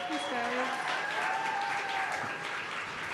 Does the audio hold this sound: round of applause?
yes